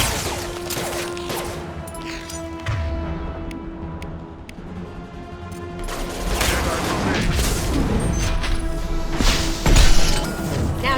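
Squad gunfire in the video game Mass Effect 2: bursts of rapid shots and impacts mixed with booming game effects and music, building louder toward the end, with voices briefly heard.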